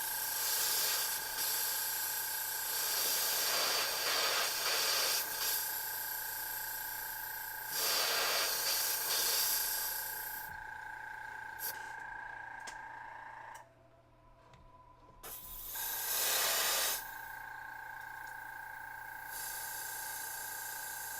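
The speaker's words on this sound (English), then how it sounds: "I'm talking while I'm running the airbrush" An airbrush sprays paint onto a miniature model with a steady, fairly quiet hiss that runs for long stretches, briefly cuts out and then resumes.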